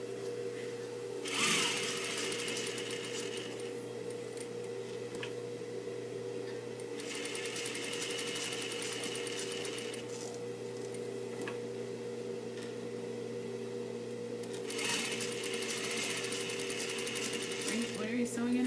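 A sewing machine stitches a jeans seam in three separate runs of steady, rapid stitching, with a low steady hum continuing underneath the whole time.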